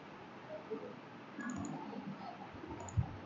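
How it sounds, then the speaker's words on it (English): A single soft computer mouse right-click lands near the end, faint and close, over a quiet background hiss with no talking. "To do this, just right click."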